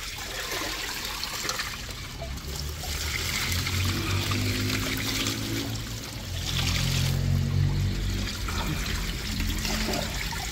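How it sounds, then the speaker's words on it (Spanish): Pond water is poured into a container holding fish, a splashing, gurgling stream that swells in waves as it fills, close by with no talking. "voy a empezar a echarle agua aquí del estanque"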